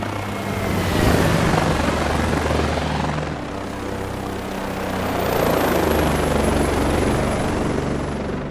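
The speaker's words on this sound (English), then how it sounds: "Accurate sound attenuation, ground reflection and Doppler effects also have been implemented for true-to-life helicopter" A flight simulator helicopter's rotor thumps and engine roar loudly, swelling and fading with Doppler effect as it passes close by, with a rising whine at the end.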